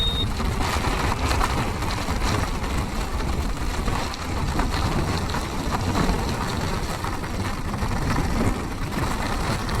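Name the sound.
heavy rain during scooter ride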